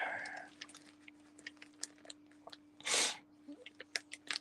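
A single sharp sneeze bursts out midway from someone suffering allergies while making lampwork glass, with small clicks and rustles around it in a quiet room.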